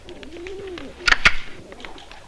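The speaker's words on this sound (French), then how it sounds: "Vous mangez des pigeons, des créatures du bon Dieu." Pigeons coo in a soft, low, warbling call near at hand, followed by a couple of sharp, louder flutters or snaps midway, then the quiet cooing resumes.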